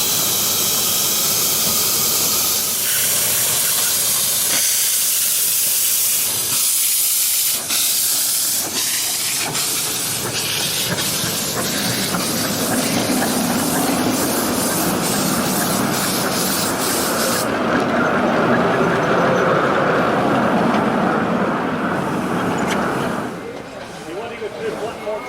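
A steam train hisses loudly and continuously, with rhythmic puffing chuffs early on and a broad rushing spray of steam, voices faintly mixed in, at a model steam and traction event.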